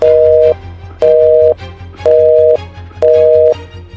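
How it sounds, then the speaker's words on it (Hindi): A telephone busy tone follows a hung-up call: four loud, steady mid-pitched beeps, each about half a second long, evenly spaced with half-second gaps, close and clean. "तुरंत उन्होंने फोन काट दिया"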